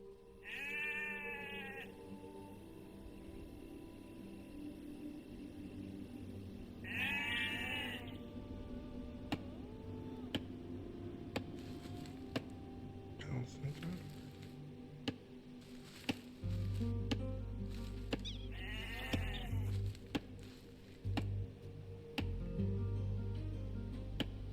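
Sheep bleating in the video game Age of Empires 2, a few separate quavering bleats spaced several seconds apart over quiet game ambience with occasional ticks and a low hum that comes in partway.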